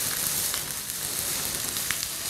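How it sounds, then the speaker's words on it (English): Capsicum tossed into hot oil left over from frying onions and garlic, giving a steady, close, even sizzle throughout with a few faint crackles and no talking. "In the same oil, add the capsicum."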